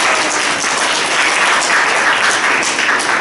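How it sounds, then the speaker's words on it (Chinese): Loud, close applause from a congregation at a Sunday church service, a thick continuous patter of many hands clapping that holds steady throughout. "给我们鼓励掌声。"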